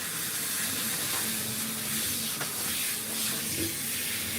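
A Himalayan cat is rinsed during grooming, heard as a steady, close hiss of running water spray that holds an even level throughout.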